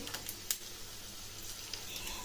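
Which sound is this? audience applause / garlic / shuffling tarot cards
garlic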